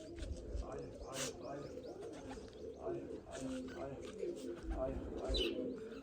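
Pigeons coo in low, repeated throaty rolls near a loft, with a few brief higher chirps scattered through the steady cooing.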